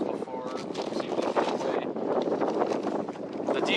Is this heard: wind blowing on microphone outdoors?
yes